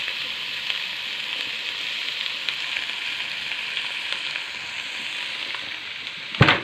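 Vegetables and tomatoes fry in a pan with a loud, steady, close sizzle that runs unbroken, ending in a sudden clatter.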